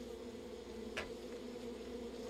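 Bees buzzing in the 1988 game Monsters, a faint steady drone with a brief louder buzz passing near the middle.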